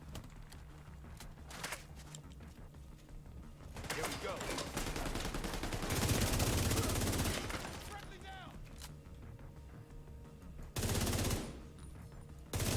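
Gunfire in the video game The Division 2 on legendary difficulty: rapid automatic bursts at moderate loudness, with a long heavy volley mid-way and another short burst near the end over quieter ambient game sound.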